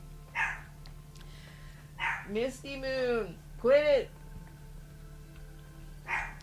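Dog barking in the Palia game, a few sharp barks and yips spaced across several seconds, loud and close, alongside a person talking and a steady low hum in the background.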